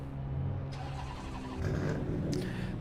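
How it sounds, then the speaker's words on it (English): A car engine starts in a racing video game, cranking and catching into a mid-pitched idle that rises slightly with a brief rev, steady and close with no talking. "Car starts."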